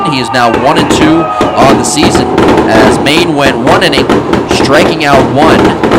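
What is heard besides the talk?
fireworks going off in the background at a baseball game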